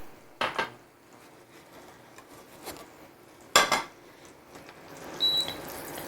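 Shrimp cooking in a pan is shaken, giving a few separate metallic scrapes and clatters of the pan and its contents, with a quiet sizzle running underneath throughout.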